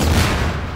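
A single loud, booming gunshot in Half-Life 2 Deathmatch, scoring a headshot during a competitive match, with a broad blast that decays over under a second.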